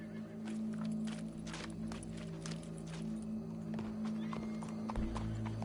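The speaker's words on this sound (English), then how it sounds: "Go brush that horse" Horse hooves in Red Dead Redemption 2 clip-clop steadily over a constant droning background, with a faint horse snort mixed in.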